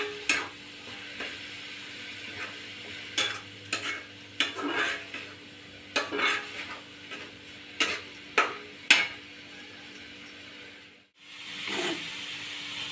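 Masala frying in a pan for a chicken fry, a steady low sizzle broken by repeated sharp scraping stirs at an irregular rhythm, close and fairly quiet, with no talking.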